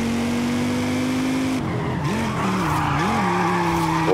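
A car in the Forza Horizon 5 racing game corners hard, its engine note rising and dipping while the tires squeal loudly and continuously throughout, with no talking.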